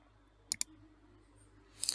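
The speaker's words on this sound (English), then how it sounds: "I am clicking in this button to download the setup." Two quick, sharp mouse clicks land close together near the middle, clicking a download button for a Python setup on a Windows computer, followed by a soft rustling swell at the end over faint room hum.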